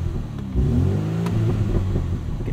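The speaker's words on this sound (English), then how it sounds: "Gives you a little bit more of a throaty note. Sounds pretty good for a Turbo 4, honestly." Turbocharged four-cylinder engine of a 2020 BMW M235i xDrive Gran Coupe revving in sport mode, a throaty low drone that swells after a half-second and holds steady, heard alone without talk.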